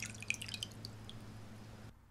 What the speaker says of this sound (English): fill it with 1/2 cup of water and add